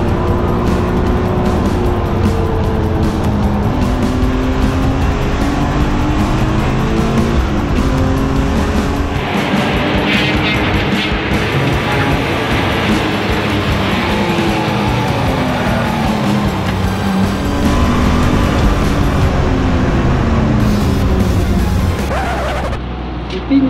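Race cars lap the Brands Hatch circuit on a track day, engines roaring loud and close with shifting pitch, tyres squealing and other cars passing by, under a steady blanket of engine noise.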